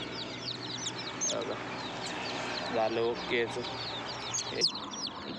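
Two- to three-day-old country chicks in a village chirp in high, rapid peeps under a person's talk, with occasional louder cheeps scattered through.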